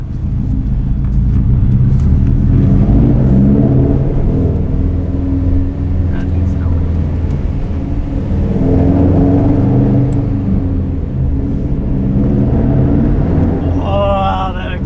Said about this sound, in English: Oh, that exhaust sounds so good.